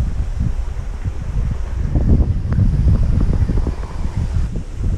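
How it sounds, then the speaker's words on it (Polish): Strong wind buffets the microphone in a constant, heavy low roar with gusty fluctuations throughout, no voices present. "O Jezu, jaki wiatr. Masakryczny wiatr."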